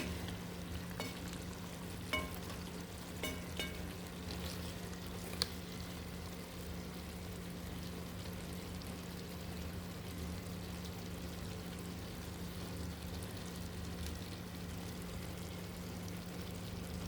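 Katla fish curry with stalks simmering and frying in a large pot over a low gas flame, a steady soft sizzle and bubbling hiss running throughout with a few faint clinks, no talk.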